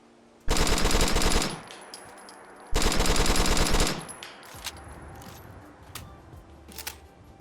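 Two long bursts of rapid automatic rifle fire from a Fallout 4 mod, each lasting over a second, followed by mechanical clicks and clatter of a reload.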